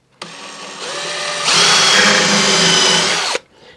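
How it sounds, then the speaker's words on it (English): A power drill drives 2-inch screws into wood while building a flower stand, one continuous loud whine that rises in pitch partway through and then stops abruptly, with no voices. "I'm going to run 2-inch screws across there."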